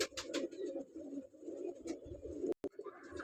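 Teddy pigeon breeder pair cooing steadily up close, a low soft continuous murmur with a brief interruption near the end.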